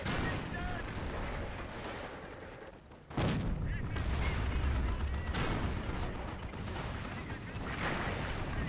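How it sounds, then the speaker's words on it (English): A Panzer IV tank firing in Company of Heroes amid a steady roar of battle, with one heavy, sudden cannon blast cutting through the dense background of distant gunfire and rumbling explosions. "Panzer IV firing away."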